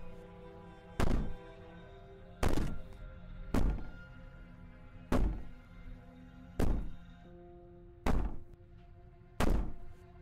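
Banging on a wall in the video game Slay the Princess, seven heavy booming thuds at a slow, even pace, each ringing out briefly over a quiet droning background.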